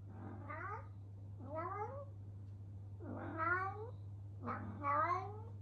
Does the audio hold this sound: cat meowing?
yes